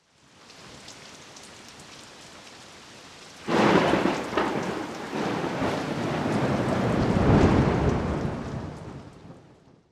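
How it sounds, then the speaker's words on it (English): Steady rain falls, then a sudden loud thunder crack swells into a rumbling thunderstorm with heavy, roaring downpour that builds and slowly fades. "the rain escalates into a thunderstorm"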